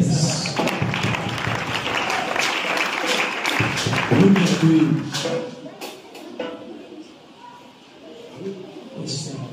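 A church congregation claps during worship, with sharp, busy applause early that thins out while voices and talk carry through and over it.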